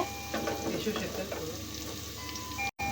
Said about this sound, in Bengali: এখন একটু নাড়াচাড়া করে দিচ্ছে পেঁয়াজটা বাদামি কালার হয়ে আসলে